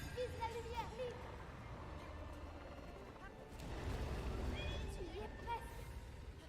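A horse in the video game Breath of the Wild gives a couple of short, high whinnies over busy game sounds and hoofbeats, with a voice speaking underneath.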